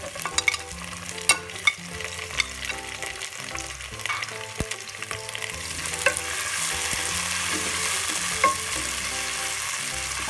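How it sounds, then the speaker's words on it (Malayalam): Tomatoes and green chillies fry in a pan for a chicken dish, a steady close sizzle broken by scraping stirs and occasional sharp clicks of the spoon, growing denser toward the end, with no talking. "തക്കാളി നന്നായി ഇടുന്നവരെ ഇളക്കുക"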